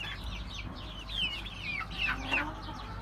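Several young chickens, including a Plymouth Rock hen and a rooster, cluck and chatter softly nearby over a low steady background hum.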